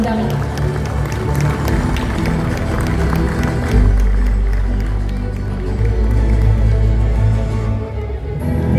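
Audience applause at a formal ceremony marking Freeport gold bars going on sale through Antam, a steady dense clapping crowd filling the hall, carrying on under a loud low rumble and music-like tones throughout.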